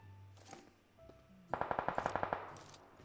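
Rapid burst of automatic gunfire in a close-quarters online shooter match, about a dozen sharp evenly spaced shots loud and near, preceded by quieter game sounds and a brief tone.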